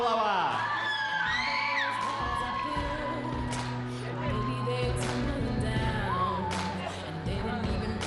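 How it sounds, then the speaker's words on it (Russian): A beauty pageant audience cheers, whoops and yells steadily throughout, a loud crowd roar with scattered shouts while an announcer's voice carries over the top. "Еще раз ваши аплодисменты."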